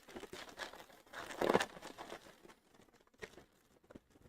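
A plastic mail bag is crinkled and rustled by hand as mail is opened, in uneven bursts of crackling with a louder crush midway and scattered quieter handling noises after.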